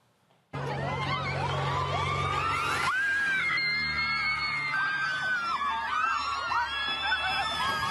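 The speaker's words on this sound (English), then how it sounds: "all them people out there yelling and hollering and screaming" A crowd at a gender reveal in Mexico screaming and shouting, a loud, continuous wall of many overlapping voices that starts abruptly and keeps going without a break.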